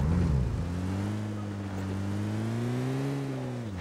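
A car engine in the mobile video game BGMI, a steady loud drone that rises and falls gently as it revs, continuous and close throughout with no speech over it.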